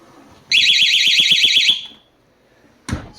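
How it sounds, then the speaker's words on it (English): A shrill portable travel door alarm on low sensitivity blares for about a second with a rapid warbling pulse, then stops, followed by a brief thump. "it is quite loud, even on low. So on high, I'm assuming, it would only have to be pressed"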